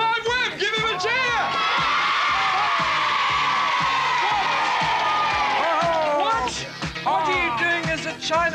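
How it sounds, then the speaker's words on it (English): A television studio audience for a band cheers, whoops and shrieks loudly and continuously, with high excited screams and some clapping over a dense crowd roar. "Give him a cheer."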